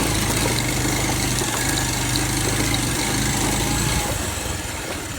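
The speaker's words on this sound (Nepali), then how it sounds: "ओइ बाइक पुरानो भयो क्या तान्दैन तीनजना मान्छे छन् त्यही पनि एउटा बाइकमा" An old motorcycle carrying three riders drones loudly and steadily, its engine straining under the load in a continuous close roar that eases slightly near the end, with no talk.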